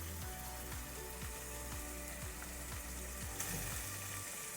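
Tomato going into a pan of rice and cranberry beans, a steady, close frying sizzle that keeps on under a faint, regular scraping of stirring.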